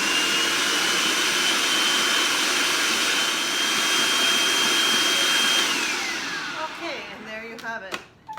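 A kitchen blender purees groundnut soup with a loud, steady whirring roar that holds for several seconds, then winds down as the motor stops, ending with a few clunks.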